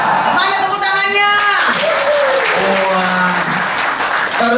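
An audience at a halal bi halal gathering claps. The applause is a continuous wash, and someone speaks loudly over it.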